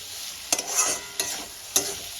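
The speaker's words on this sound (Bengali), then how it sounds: "এবার মশলাগুলোর সঙ্গে আলুগুলো দিয়ে খুব ভালো করে আমি কষাতে থাকবো" Potatoes are stir-fried with spices in a pan for a fish curry. A steady close sizzle is broken by three quick scraping strokes of a spatula, with no talk.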